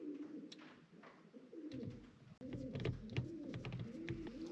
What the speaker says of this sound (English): I have a hard time focusing with the pigeons making their sounds.